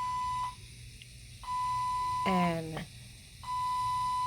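A hospital call-button buzzer beeps in long, steady tones with pauses between them, broken once by a short burst of voice in the room.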